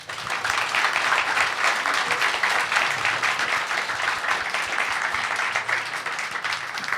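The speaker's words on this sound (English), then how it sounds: "Give a round of applause to our panelists." A conference audience applauds the panelists after an AI in biotech panel, dense sustained clapping that stays loud and even throughout before easing slightly at the end.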